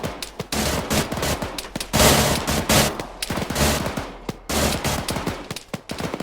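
ZU autocannon in Arma 3 firing loud, rapid bursts of heavy automatic rounds, close and dense with short gaps between volleys and no talk.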